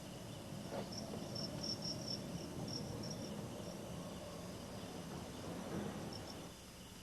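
Crickets bred near a hot spring chirping steadily in quiet pulsing trills, a faint even chorus with no voices.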